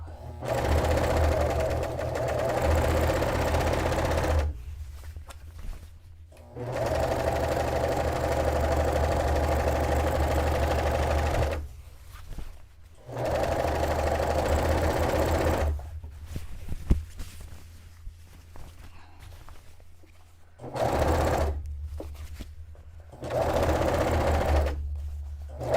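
A domestic sewing machine gathers bed-sheet fabric for a vintage-style dress in fast, loud bursts of steady motor whirring, stopping and restarting several times with quiet pauses in between.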